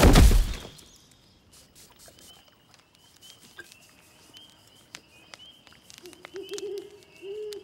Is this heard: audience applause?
no